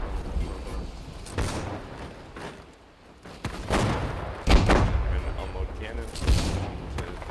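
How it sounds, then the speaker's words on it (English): Ship cannons fire broadsides in a naval video game, with several heavy booms at irregular intervals amid a rumbling battle din. "Withering fire from this rocket boat and the 8 gun."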